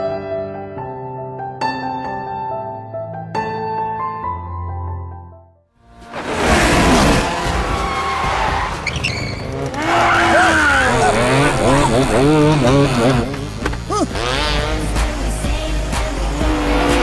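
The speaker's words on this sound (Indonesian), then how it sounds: "Henry lalu membawanya ke sirkuit go-kart, di mana tanpa Denan sadari, Henry juga mengundang ayahnya, dan mereka berdua pun adu balap." Go-karts race on a circuit in a film scene: after a stretch of music, loud engine whooshes and squealing, skidding tires pass continuously and close.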